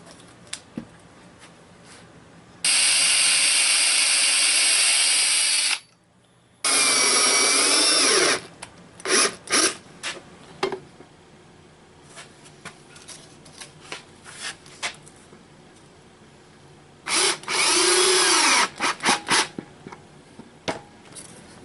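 A power drill boring into a wood log slab in three loud sustained runs, separated by scattered knocks and handling clatter.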